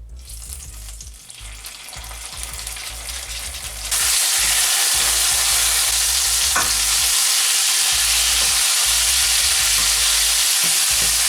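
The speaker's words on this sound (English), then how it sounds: "The oil is now hot and I'll start frying the chicken wings." After a few quiet seconds with low rumbling, chicken wings hit hot oil and burst into a loud, continuous crackling sizzle that persists.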